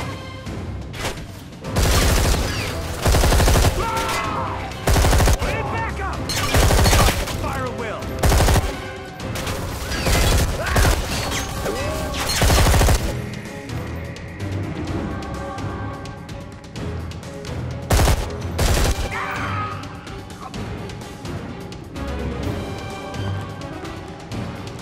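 Machine gun fire in the Xbox 360 game Deep Black, loud, sustained automatic bursts with heavy booms and impacts running throughout, pausing briefly between volleys.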